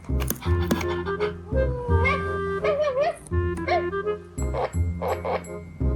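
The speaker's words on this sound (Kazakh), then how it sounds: "Қандай дыбыс шығарады ит?" A toy puppy yips and barks in a lively run of short, high, close barks and whimpery whines, with some overlapping talk.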